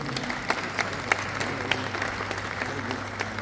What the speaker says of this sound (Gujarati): તાળીઓનો ગળગડાટ રહેવો જોઈએ.